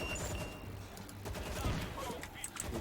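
Distant gunfire crackles in the World War Z video game during a Moscow episode, as a soft, continuous, low-level rattle of shots with no clear single reports.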